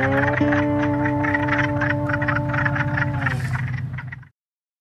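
Spring frogs call in a loud, continuous chorus of steady pulsing croaks, dense and close for about four seconds before stopping abruptly.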